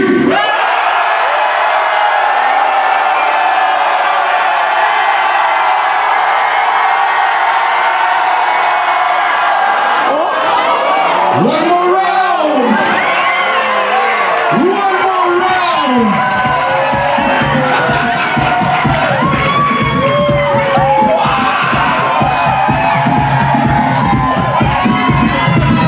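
Crowd at a house dance battle in Japan cheering, whooping and shouting loudly after a countdown, a sustained roar of many voices swelling midway and continuing with scattered yells.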